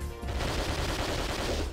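Enemy gunfire in Pursuit Force, a short, dense burst of rapid shots with a rumbling low end that is loud and continuous across the moment.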